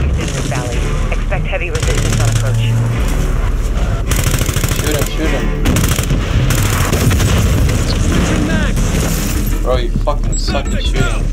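Gunfire from Call of Duty Modern Warfare 2 during the cooperative mission Denied Area: rapid bursts of automatic shots and booming blasts run continuously and loud, with voices talking over the firefight.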